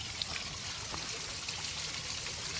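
Water splashes continuously from a bubbling rock water feature, a steady, close rush of trickling and spattering with no break.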